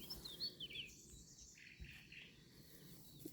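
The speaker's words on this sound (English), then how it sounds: "Lots of bird song, which has been nice" Birds sing in a forest during a walk, with scattered high chirps and short calls that sound faint and distant over a soft, steady outdoor background, and no one talks.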